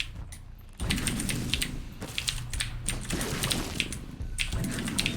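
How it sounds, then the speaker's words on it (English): A mechanical keyboard clatters in quick bursts of clicks, close and fairly loud, with a short pause early on and then steady rapid typing against a faint background hum. "Joke's on you, I always loved keyboard noises"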